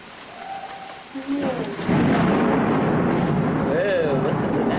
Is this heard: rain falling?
yes